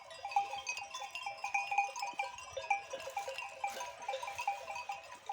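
Sheep in a pasture flock with a newly arrived ram bleat repeatedly, high wavering cries overlapping at a moderate distance, with quiet gaps between calls.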